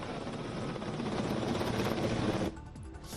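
A helicopter flies over a hospital in Bangalore while showering flowers, its steady rotor roar loud and continuous, then dropping away abruptly near the end.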